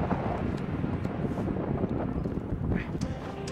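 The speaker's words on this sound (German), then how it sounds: "Es ist ziemlich windig." Steady wind gusting and buffeting across the microphone high on Mount Everest near the First Step, a continuous low roar with no voices.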